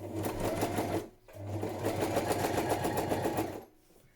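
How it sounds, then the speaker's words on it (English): A sewing machine stitches padded patchwork fabric for a journal cover, running in two loud, steady bursts of rapid needle chatter separated by a short pause. "Got my needle down, I'm spinning it round, drop my foot and stitch again."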